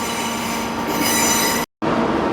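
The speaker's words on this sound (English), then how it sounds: "Some of that train is probably going to Aberystwyth." A cross-country passenger train passes close by with loud, continuous wheel squeal and rail rumble, followed by a brief cut to silence before the noise resumes.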